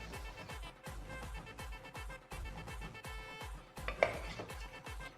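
Spoon stirring spice powders into beef curry masala in a pan, quiet rhythmic scraping strokes repeating steadily, with one sharper clink near the end.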